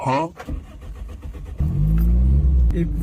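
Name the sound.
car engine starting and revving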